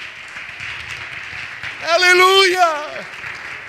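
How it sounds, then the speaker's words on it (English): A church congregation claps hands in steady, continuous applause during a worship service, while a voice rises loudly over the crowd and then fades. "Clap your hands if you believe that."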